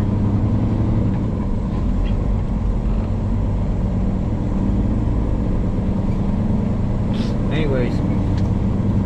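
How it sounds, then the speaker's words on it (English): A loud, steady engine roar and road rumble from a truck driving in Texas continue throughout, with a few brief clicks and rattles near the end. "this truck is pretty loud"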